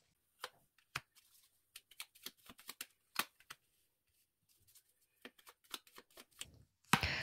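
Tarot cards are shuffled and drawn in quiet, crisp close riffles and taps, in scattered bursts separated by brief silences, with no talk.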